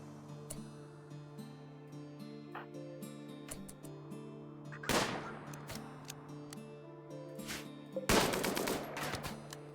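Light machine gun fire in the RimWorld video game, scattered short bursts and single cracks over a steady game music drone, with two louder, denser bursts toward the middle and end.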